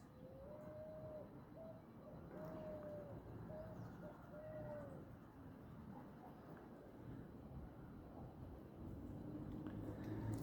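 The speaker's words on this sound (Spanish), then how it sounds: "Ahí estamos viendo cómo las aves comienzan a buscar su lugar, ya que se está llegando la hora de dormir." Birds settling to roost at dusk near an air potato plant garden, a dove cooing repeatedly in a steady rhythm before falling quiet, faint and distant over a soft outdoor hum.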